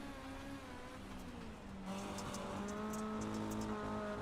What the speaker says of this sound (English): These cars sound like angry weed eaters.